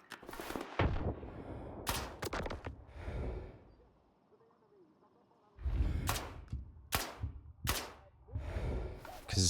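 Video game gunfire in S.T.A.L.K.E.R. 2, with sharp broadband shots in quick bursts near the start and again later, split by a quieter lull, loud and close.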